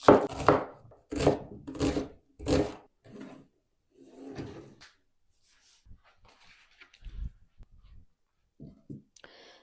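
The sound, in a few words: knife chopping onion into half rings on a board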